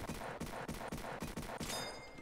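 Gunfire from a Roblox video game crackles in fast, repeated bursts, about eight sharp shots in quick succession at low volume with no talking over them.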